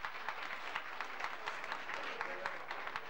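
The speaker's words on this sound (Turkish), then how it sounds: "bir alkış istiyorum." Applause rises from the audience at a traditional Özbağı village association night in December 1995, a moderate, slightly distant patter of many hands with regular small peaks, heard alone without speech.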